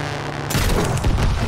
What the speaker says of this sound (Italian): E poi pure le esplosioni stanno fatte bene.